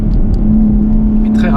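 A 2023 BMW M3 Touring with an eight-speed automatic gives a steady, deep engine and exhaust drone from inside the car while someone talks over it.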